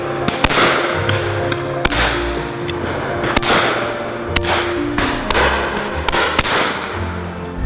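Shotguns fire at driven pheasants during a beaters' day shoot in 2022. About eight sharp, loud reports crack out at irregular intervals over a low background rumble, with no talking.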